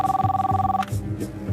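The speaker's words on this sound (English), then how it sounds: "Phone rings in the house." A house telephone rings with a rapid trilling electronic bell, loud and close, cutting off partway with a lower hum continuing beneath.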